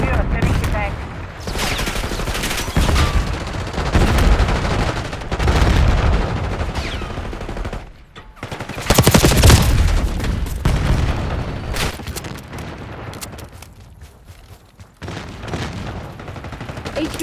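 Dense bursts of gunfire and heavy booms from a Call of Duty 6 battle, with sustained automatic fire, explosions and intermittent radio-style voices over the combat throughout.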